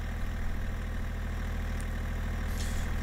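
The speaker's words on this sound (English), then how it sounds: "Let's keep the engine running here." In Farming Simulator 22, a truck engine idles with a steady low rumble and an even rhythmic throb, close and constant, with a faint brief click near the end and no talk.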